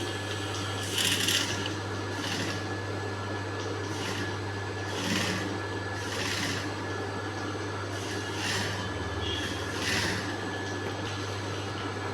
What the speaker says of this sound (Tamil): இதை கீழ்ப்பக்கமாக வச்சு தையல் போடுங்க